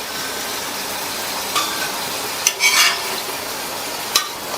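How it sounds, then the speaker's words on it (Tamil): Elephant foot yam slices frying on a hot tawa, a steady soft sizzle with a few brief scrapes of turning. "ரெண்டு சைடுமே கிழங்கு ஃப்ரை ஆயிடுச்சு."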